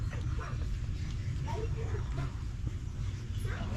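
A dog barks and whimpers at a distance over a constant low background rumble, with people talking nearby.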